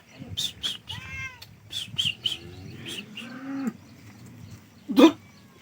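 Several close, drawn-out meows from a domestic cat one after another, ending with a louder, sharper yowl.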